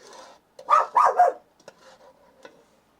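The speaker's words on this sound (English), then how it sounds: "There goes my dog." A small house dog gives a quick burst of three or four close barks in a quiet kitchen, followed by a few faint yips and light sounds.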